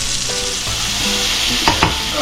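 Jerk-seasoned grouper fillets sizzle steadily in a hot skillet, a dense continuous frying hiss with a couple of louder spits and pops near the end.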